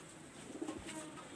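Faint low cooing from pigeons kept for sale, a brief soft burst of throaty coos under a hazy background hum, fairly distant.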